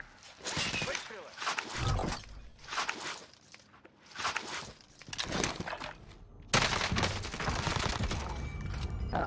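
Bursts of gunfire in Call of Duty: Warzone crackle in rapid volleys separated by short pauses, ending in a sustained, loud stretch of shooting and impacts.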